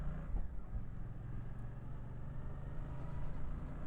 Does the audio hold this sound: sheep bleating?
no